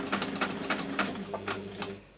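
A sewing machine top-stitches the handle onto a waxed fabric bag in short rhythmic bursts of rapid needle clatter, close and fairly loud, with no talking.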